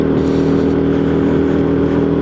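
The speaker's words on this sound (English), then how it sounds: "Drop the revs down, get a little bit of revs up on the bike" A WK Maverick motorcycle engine runs at steady high revs, a loud, dense, continuous buzzing drone close by with no pauses and no voices.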